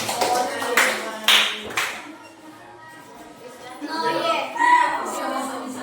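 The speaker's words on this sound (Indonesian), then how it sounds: "Tepuk tangan" Children in a classroom clap for a group that has just presented, a few sharp bursts of clapping early on, then a quieter stretch and a second softer round, with a teacher's and kids' voices mixed in.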